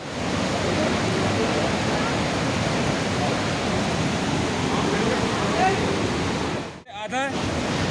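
Roaring Saraswati river water crashing against rocks near Mana village in the Himalayas, a loud, steady broadband rush filling the clip, briefly dipping near the end.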